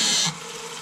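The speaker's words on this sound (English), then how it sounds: "your faucet shouldn't make that sound." A year-old RV bathroom faucet runs with a loud, harsh hissing rush that suddenly drops to a quieter steady flow after a moment.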